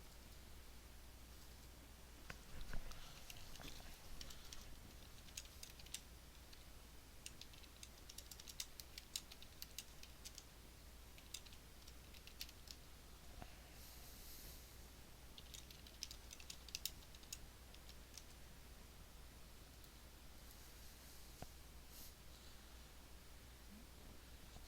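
Rapid, irregular keystrokes on a computer keyboard, quiet and close, clattering in bursts over a steady low hum with no one talking.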